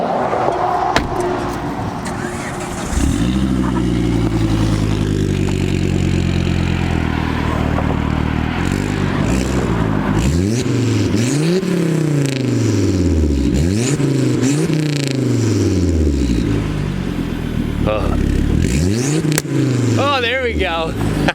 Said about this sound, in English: I love the way these 5-cylinders sound